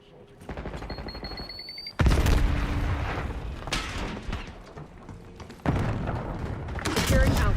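Grenade and bomb explosions in a shooter video game, several loud booming blasts mixed with gunfire, heard over players talking.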